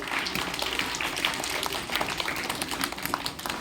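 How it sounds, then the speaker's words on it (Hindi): Applause in a classroom quiz session after a student answers: a dense, even wash of many hands clapping together, sustained without a break and fairly loud, with no voices over it. "जोरदार ताली लगाइए।"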